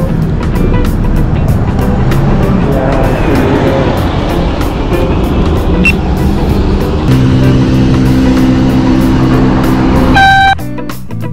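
A city bus pulling up behind a cyclist in traffic, heard as a steady, loud roar of engine and road noise with a rising tonal drone and a few brief horn-like tones near the end, no talk.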